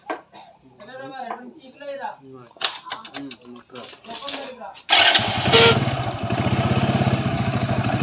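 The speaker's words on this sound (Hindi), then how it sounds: "अब चलिए हम बाइक को स्टार्ट करते हैं" Someone talks, then a motorcycle engine cranks on the electric starter in neutral and catches, settling into a loud, steady putter close by.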